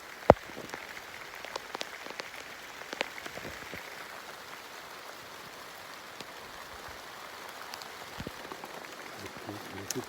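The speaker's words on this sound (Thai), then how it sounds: "ฝนก็ตกบ่เซาแล้ว" Steady rain falls outdoors, a soft, continuous patter on surfaces with scattered louder drops and clicks throughout.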